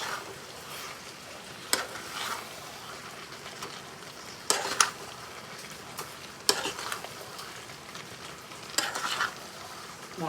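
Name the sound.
stirring spice mix into frying raw mango pickle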